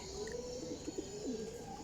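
Teddy Golden flying pigeons, a championship high-flying breed, coo in low, throaty rolls that overlap steadily for the whole stretch, close by and fairly loud with no voices.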